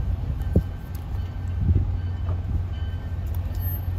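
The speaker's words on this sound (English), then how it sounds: "And the train's leaving." An MBTA commuter rail train in Chelsea, Massachusetts, rumbles steadily nearby, a low continuous roar with a few faint clanks, no voices.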